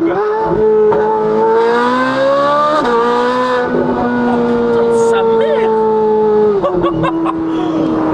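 Ferrari 458 Italia with a full IPE exhaust roaring loud and close in traffic, a steady high engine wail that shifts pitch several times, with a voice talking over it.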